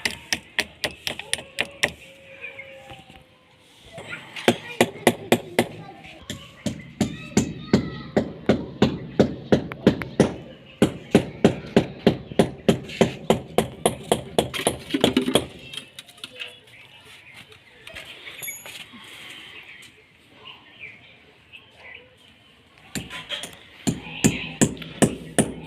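A nail is hammered in by hand in a kitchen garden: runs of sharp, rhythmic strikes close by, with short pauses between bursts, while people talk over and between the blows.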